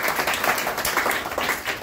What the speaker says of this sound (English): Big clap for Anas.